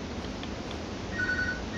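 A telephone ringing in the video game Fallout 4, a thin repeating electronic trill that grows stronger toward the end over a steady background hum.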